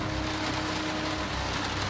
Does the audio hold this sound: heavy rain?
yes